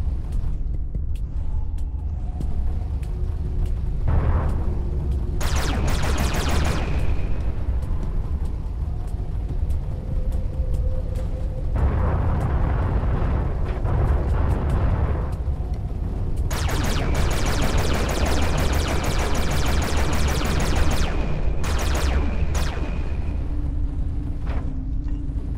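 Weapon fire against a mineable asteroid in the space shooter Everspace, long loud bursts of crackling blasts and rumbling impacts over a steady engine drone, with brief pauses between volleys.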